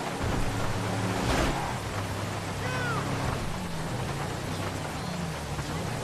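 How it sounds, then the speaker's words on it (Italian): Heavy downpour in the video game Grand Theft Auto V, a steady loud wash of rain with faint low rumbles underneath and no speech. "Diluvio incredibile."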